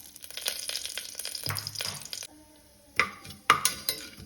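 A bay leaf and half a spoon of cumin fry in a pan, giving a soft sizzle and frying hiss, interrupted by a couple of sharp metallic clinks of a spoon against the pan.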